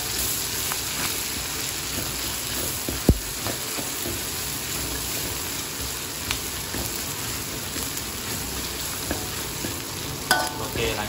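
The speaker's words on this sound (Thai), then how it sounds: "หลังจากผัดพริกกระเทียมให้หายเหม็นเขียว" Chili, garlic and pork belly stir-frying in a wok for a Thai pork belly and banana pepper dish, a soft continuous sizzle with occasional spatula clicks and scrapes, fairly quiet and without speech.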